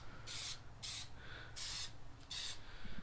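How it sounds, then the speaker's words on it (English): Quiet bursts of an aerosol can spraying a thin transparent Plasti Dip coat onto a car interior: four short hissing sprays close by, separated by brief pauses, over faint room noise. "Like I said, this is just a transparent coat."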